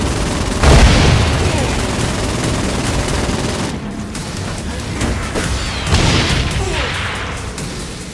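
The sloth gun, called the Armchair Ageddon, fires in the video game Saints Row: Gat out of Hell, with loud rapid bursts and booming blasts over dense action noise, a voice talking throughout.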